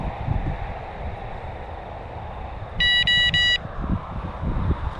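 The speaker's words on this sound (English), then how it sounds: "nobody likes to listen to that, the beeping" Three quick electronic beeps in a short burst, high-pitched and clear, over steady outdoor wind noise.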